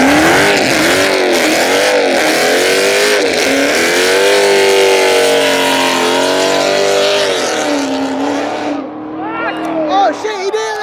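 A Dodge Hellcat at a night car meet revs hard and holds a loud, close engine scream with wavering pitch while burning rubber, then the roar drops off near the end as voices shout over it.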